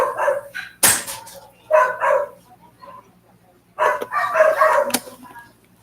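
Several dogs barking in bursts as family members leave a house, loud and close, with yips and overlapping barks in two main clusters and a sharp knock between them.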